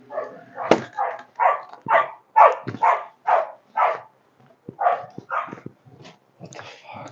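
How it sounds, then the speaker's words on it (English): Dogs barking close by in a rapid series of about a dozen sharp barks, with brief yips between them and short pauses breaking the rhythm. "I'll go see what my dogs are barking at."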